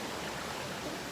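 Water flowing over large rocks at Wang Chung Stream in Tai Po, a steady broadband rush, soft and continuous with no voices.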